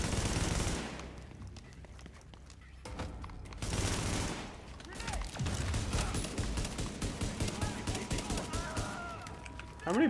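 Bursts of rapid automatic rifle fire and scattered shots from The Division, loud and close, with heavy volleys early on and lighter gunfire later, mixed under excited player voices talking.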